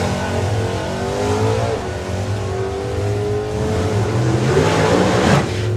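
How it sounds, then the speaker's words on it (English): Drag racing cars roar down the strip at Santa Pod Raceway, the engine drone loud and steady throughout with rising revs, a sharp burst near the end hinting at a nitrous backfire. "Huge nitrous backfire for Brendan Clancy."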